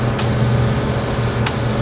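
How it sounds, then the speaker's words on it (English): A spray gun coats a part inside and out with a loud, continuous airy hiss over a low hum, briefly cut off twice by quick trigger releases; no one speaks. "And then I'll go and spray the rest of it inside and out."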